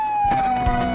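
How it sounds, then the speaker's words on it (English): A cartoon police car siren sounds as a steady, loud electronic wail, holding one high tone throughout a short burst with light background sounds beneath it. "This is a police car."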